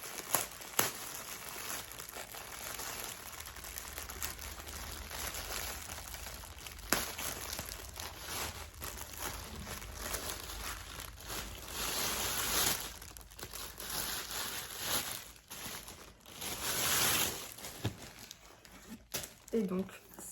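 Crinkling and tearing of a package being unwrapped to reveal a bag, a steady rustle of plastic close by with a few sharper rips, under someone talking.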